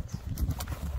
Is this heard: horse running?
yes